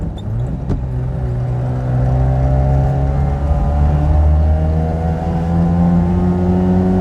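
A 1974 Daihatsu Fellow Max kei car's small two-stroke engine revs high and climbs steadily in pitch, a buzzing, strained drone heard loud and close from inside the moving car.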